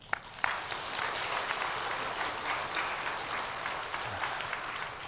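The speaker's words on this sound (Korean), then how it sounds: "하나님께 깊은 감사의 박수를 드리겠습니다." Congregation applauding in a church during a Sunday service, a dense steady clapping that fills the space for several seconds with no talk over it.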